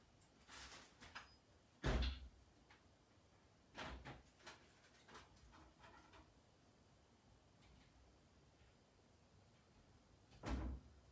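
A household door opens and shuts for a parcel delivery: faint, scattered knocks and thuds spread across several seconds in a quiet indoor space, with one firmer bump near the start and another near the end.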